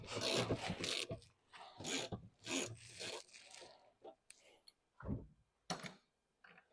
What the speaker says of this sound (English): Get swinging on that to remove the shock absorber.